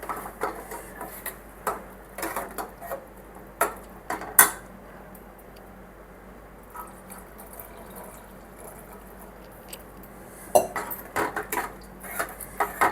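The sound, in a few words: stirring carrot and milk in pan for carrot halwa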